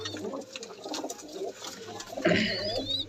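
Pigeons kept in a box coo softly in short throaty phrases, close by but faint, while people talk among them.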